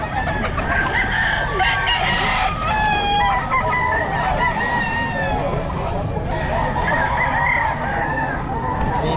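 A golden bull stag rooster crows repeatedly at a busy Bocaue pet market, its calls carrying over clucking fowl, a honking goose and steady crowd chatter.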